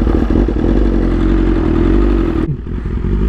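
A BMW S1000RR sport bike engine drones loudly and steadily while riding, with wind rush and road clatter. The roar drops off sharply near the end.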